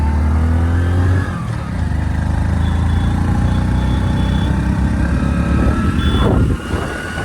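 A vehicle makes a U-turn on the road from Pune toward Lohagad fort, its engine a loud, close, continuous drone that shifts slightly in pitch, with a faint whine and a brief dip partway through.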